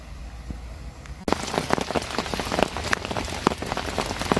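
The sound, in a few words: rain falling at a fishing lake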